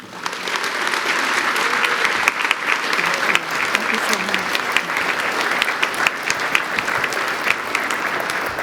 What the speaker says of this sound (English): Please welcome President Astrid Jimenez.